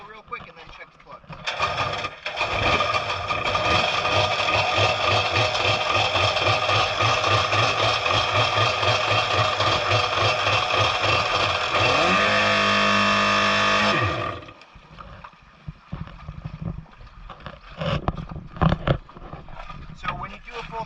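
A jet ski engine with a Mikuni carburetor is held at full throttle, a loud, steady, harsh roar lasting about twelve seconds, then the revs drop with a falling pitch and it cuts off into quieter rumbling and handling noise.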